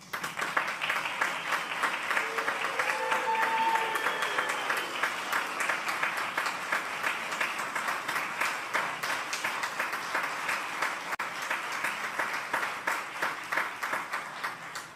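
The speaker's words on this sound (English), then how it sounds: "Please join us in giving today's recipients a round of applause." An audience applauds award recipients at a formal defense ceremony, with steady, sustained clapping from a seated crowd that carries on evenly across the whole stretch, moderately loud in the room.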